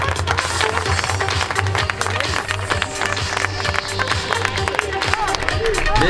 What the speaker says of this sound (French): Applaudissements le podium